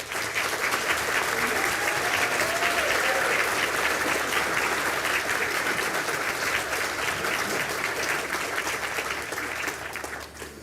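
A large audience at a spring university conferring ceremony in Galway applauds steadily for Master of Science in Biopharmaceutical Manufacturing graduates, a dense, even wash of clapping that holds for about ten seconds before easing slightly.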